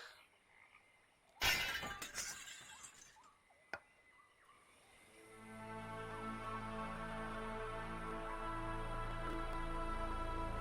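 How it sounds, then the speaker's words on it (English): Emergency exit glass smashed in a VR video game, a single sharp loud shatter followed by a smaller clink, then a rising droning hum with layered tones building and holding steady, no talking. "Emergency exit. Break glass."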